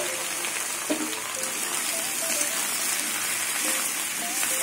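Taro stolons (kochur loti) sizzle as they drop into a frying pan with onions that have not been browned. A dense, rain-like crackle of hot oil holds steady throughout, with a few faint clinks and tonal touches.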